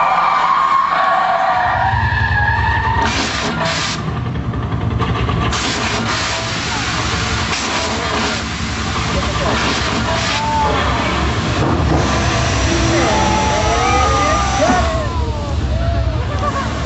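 Motion control stunt cars at a Universal Studios show skid and rev, with long loud tire screeches, engine roars and hissing bursts filling the whole stretch, and voices faintly beneath.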